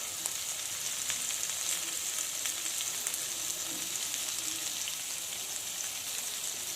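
Fish frying in a pan as crushed shallots are tucked into the gaps, a dense continuous close sizzle and crackle, even in loudness throughout, with no talking.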